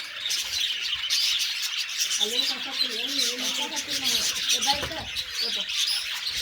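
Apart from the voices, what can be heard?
birds chirping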